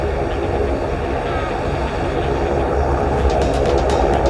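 An Air New Zealand airliner taxiing on a runway gives off a steady, loud, close engine roar that holds unbroken throughout, with a thin high hiss layered on top.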